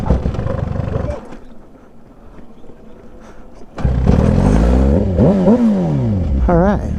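A push-started motorbike catches after a quiet roll, its engine bursting to life loudly and revving up and down, with voices talking over it.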